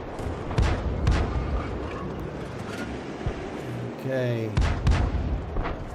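Tank gun fire in a video game from an SU-122A, with heavy booming shots and rumbling battle noise running throughout, while someone talks over much of it.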